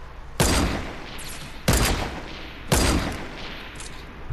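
Gunfire in Fortnite: three loud, heavy shots spaced about a second apart, each a sharp crack with a booming tail that fades before the next, with no talk.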